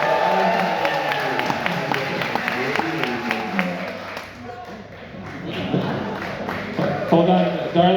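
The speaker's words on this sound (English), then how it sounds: "people were giving such a loud round of applause here in the room" A room of delegates voting on the Cardano Constitution breaks into a round of clapping, dense sharp claps at first that thin out, with voices and cheering mixed in throughout.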